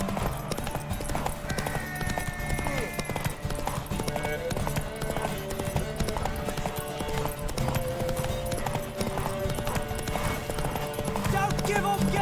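Horse hooves clip-clopping in a steady galloping rhythm during a race in The Witcher 3, continuous and close, with game music and voices talking over them.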